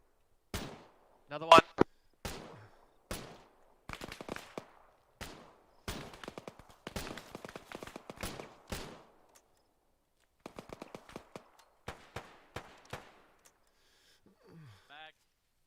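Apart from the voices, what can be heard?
gunfire in the video game Arma 3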